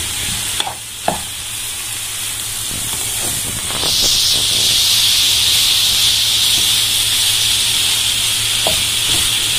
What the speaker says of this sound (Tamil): இப்படி நல்லா வதங்கட்டும் ஃப்ரெண்ட்ஸ், நல்லா கொஞ்சம் சுருளில் வதங்கட்டும்